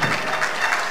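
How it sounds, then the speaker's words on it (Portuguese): A football crowd of Moura Athletic Club supporters applauds a substitute player coming on, a steady wash of distant clapping filling the stadium without talk. "Aplausos para Chiquinho, aqui da massa adepta do Moura Athletic Club"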